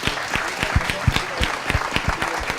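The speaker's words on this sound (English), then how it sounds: "Let's give a big round of applause, please." Audience applause at a live motivational coaching event, with steady overlapping claps at a moderate level throughout and individual sharp hand claps standing out in the wash.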